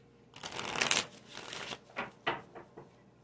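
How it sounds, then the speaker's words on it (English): Cards riffle-shuffled up close: a long rustling burst, then several shorter crisp riffles and flutters in quick succession. "I'm going to give this a couple more shuffles."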